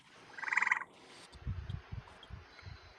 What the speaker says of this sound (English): No, that wasn't you. That was a frog. That's my frog.